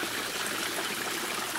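Water draining out of a Skippy pond filter packed with water hyacinth, a steady close trickling and gushing flow that fills the clip evenly with no voices.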